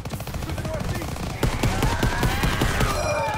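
Rapid sustained machine-gun fire in Call of Duty WW2, dense bursts of automatic shots mixed with other battlefield gunfire, loud and continuous throughout.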